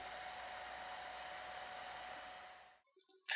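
A hair dryer heating nitinol wire blows with a steady airy roar for a few seconds, then cuts off abruptly, leaving faint clicks and a brief noise.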